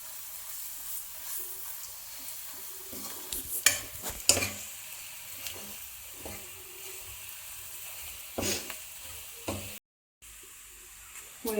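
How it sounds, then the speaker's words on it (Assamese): Spices fry in oil over a medium flame with a faint, soft sizzle, broken by occasional scraping stirs and clicks. "মই এই মছলা দি পেলাই এই 5 মিনিট আকৌ ভাজিলোঁ"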